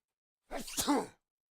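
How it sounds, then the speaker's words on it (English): A single close, loud human sneeze, a quick intake followed by a sharp burst, standing alone against silence. "Gotta sneeze."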